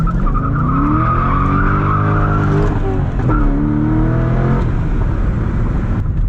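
Chevrolet C6 Corvette tires squeal loudly and continuously as the car slides and then grips, with the engine droning underneath and the pitch of the screech wavering before fading out.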